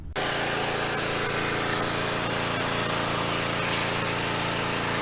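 A pressure washer cleaning the siding of a house gives a steady, loud, continuous hiss and motor drone that runs unbroken for the whole stretch, with no talking.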